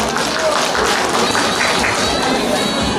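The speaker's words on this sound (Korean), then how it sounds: "다시 한번 김상민 의원님께 큰 박수 부탁드립니다." Audience applause at a year-end thanksgiving event at a Buddhist meditation center, dense clapping from a crowd filling the moment with voices mixed in.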